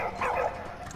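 A dog in the video game Valiant Hearts gives one short, fairly loud bark-like yelp near the start, then the sound trails off into quieter background noise.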